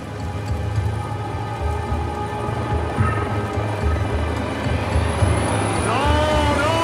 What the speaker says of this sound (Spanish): suena el rotor de un helicóptero